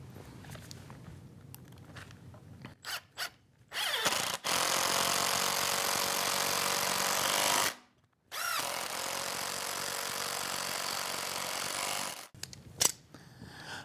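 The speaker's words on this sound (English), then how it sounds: "I'll be able to drive the screws in this end, then I'll flip a clamp around and drive the screws on the opposite side" Power driver running screws into router table brackets, short trigger blips followed by two long steady whirring runs separated by a brief pause, close and loud.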